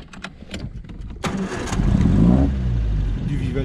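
A 1954 MG TF, already warm, cranks briefly after some clicks, then its engine catches and settles into a steady, loud rumbling idle close at hand.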